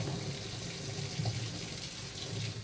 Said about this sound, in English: I'm gonna quickly wash or rinse my hands